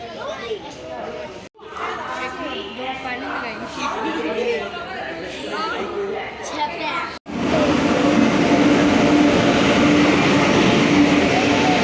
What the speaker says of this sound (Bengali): চলো ট্রেন আসুক